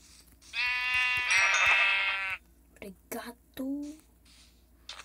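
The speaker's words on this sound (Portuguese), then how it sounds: "Olha, ovelha. Volta aqui, ovelhinha." Sheep bleating in the Minecraft video game: one long, loud wavering bleat rings out, then short clicks and game sounds follow while a person speaks.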